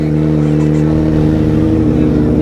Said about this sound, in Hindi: अभी भाई इनका करते हैं हम कोल्ड स्टार्ट, ये चेक करो गाइस, काफ़ी जो है वो आवाज़ होने वाली है।